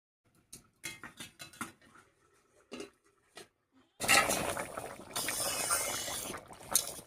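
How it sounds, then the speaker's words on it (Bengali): Lid lifted off a pot of live shing (stinging catfish) curry with potato and spring onion, then the pot taken off the stove: soft clinks and taps first, then a louder steady bubbling hiss of the hot curry. "এবারে ঢাকা খুলে নামিয়ে নিচ্ছি।"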